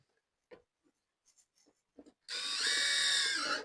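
A power tool punches holes for a fender flare install in one loud continuous whirring burst near the end, after a few faint scattered clicks and handling knocks.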